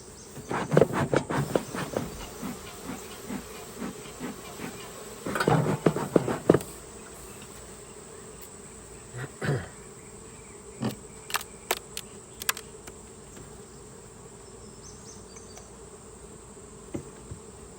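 Honeybees buzz around an open hive during an inspection, a steady hum in the background broken by clustered clicks and knocks as frames are handled.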